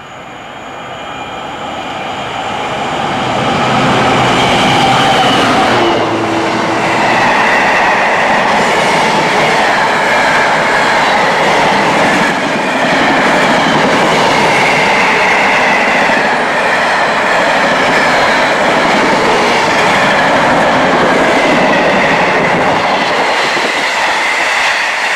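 A loud train rumbles past nearby through a station in Cheshire, swelling in after a few seconds and holding a steady roar with faint rhythmic wheel clatter throughout.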